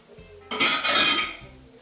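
Semolina being added for a lemon semolina cake, with a short clatter of utensils clinking against a bowl, close and brief.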